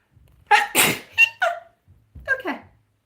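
A woman reading tarot live sneezes several times in a row, loud, close bursts with sharp intakes of breath and brief pauses between them, set against near silence.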